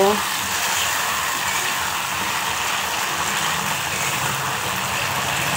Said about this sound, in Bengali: চিকেন আলু একসঙ্গে ভাজা হয়ে যাচ্ছে